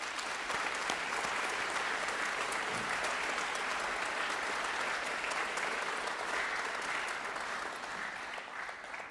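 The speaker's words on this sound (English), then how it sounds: "I think you need a round of applause." An audience at a youth brass band festival results ceremony in Scotland gives a steady, sustained round of applause, dense and even from start to finish and slightly fading at the close.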